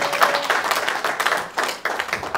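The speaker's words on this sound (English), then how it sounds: "Can somebody give a clap offering unto the King of Kings?" Church congregation clapping together as a clap offering, dense overlapping claps in rhythmic surges, fairly close and loud, with no speech over it.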